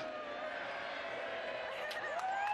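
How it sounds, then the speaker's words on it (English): A crowd cheers at the Red Bull Cliff Diving World Series 2021 in Saint-Raphaël, France, as a steady, fairly distant roar with scattered whistles and whoops, under a talking voice. "Listen to them cheering."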